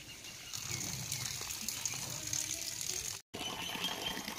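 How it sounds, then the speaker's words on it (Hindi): Heavy rain pours in a steady, dense rush of water, loud and close, with a brief cut to silence near the end before the downpour resumes. "प्रबल वर्षा सब पानी हो"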